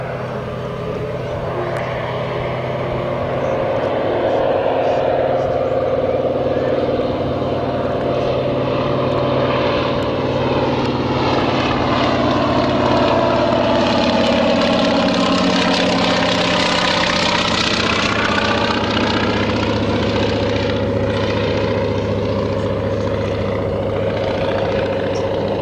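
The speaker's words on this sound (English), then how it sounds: "the Antonov AN2, the world's biggest single engine biplane" A single-engine Antonov AN-2 biplane drones steadily through a display at the Kemble 2009 airshow, its radial engine and propeller producing a continuous loud mid-pitched hum that swells and shifts in tone as it passes.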